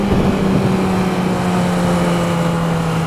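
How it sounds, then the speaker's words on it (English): A Yamaha R6 600cc sportbike engine runs steadily and loudly at close range, holding an even drone with a low, constant tone for about three seconds, with no talking over it. "hear that engine. That is a sexy sound."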